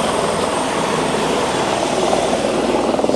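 A helicopter's rotor and engine drone fills the whole stretch steadily and loudly, with a faint pulsing chop running through the roar and no talk over it.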